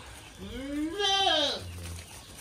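A single goat bleats once, a wavering nasal cry rising and falling, close and clear.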